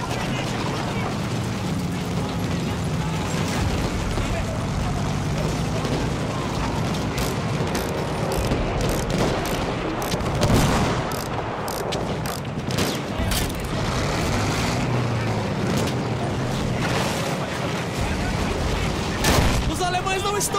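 Rapid bursts of Battlefield 1 gunfire and explosions crackle over a dense, noisy battle soundscape, with voices shouting beneath the chaos.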